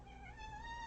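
A cat meows at a door in one drawn-out, rising call, faint and somewhat distant against a quiet room.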